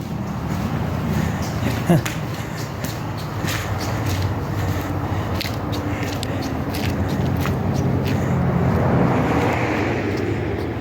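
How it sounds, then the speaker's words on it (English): Traffic rumbles continuously overhead on the Matanuska River trestle bridge near Palmer, Alaska, a broad droning wash of passing cars with occasional thumps, heard from beneath. "Cars are driving over the top of me right now."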